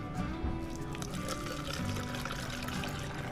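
Liquid coolant pours into a Honda ADV160 scooter in a thin, gurgling stream for a few seconds, fairly quiet with faint background noise and no talking.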